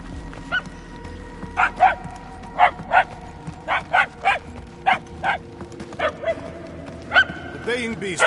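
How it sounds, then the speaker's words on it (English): In the video game Guardians of the Galaxy, a baying beast barks in a run of loud, evenly spaced yelps that grow denser toward the end, with a character's voice talking over the low background. "The baying beast is not far."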